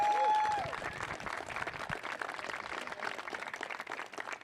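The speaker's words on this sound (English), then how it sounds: "Let's get another round of applause for Mayor London Breed." Applause from a crowd at a fire station artwork unveiling and EMS Week celebration: many hands clapping in a dense, steady patter that fades slightly toward the end, heard at moderate distance.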